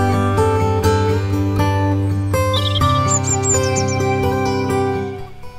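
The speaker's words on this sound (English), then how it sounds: "Sure enough, two robins." Several quick high chirps from two robins, one a juvenile, over a loud, steady musical backdrop, the calls coming in short bursts midway through.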